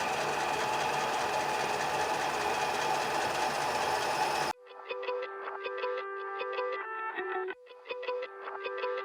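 A drill bores holes in a heavy steel buster sword: a loud, dense grinding roar for several seconds, then a rhythmic, stuttering mechanical chatter with short pauses.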